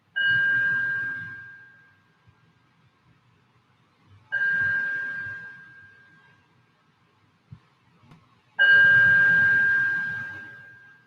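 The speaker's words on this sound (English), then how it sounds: "I will invite the bell in a moment to bring us into our practice" A meditation bell rings three times at the start of a yoga practice, each clear ding sustaining and fading slowly over a few seconds in a quiet room.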